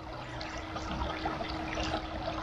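The River Vrbas flows in a steady, close, continuous rush of water with a faint hum underneath, heard alone without talk.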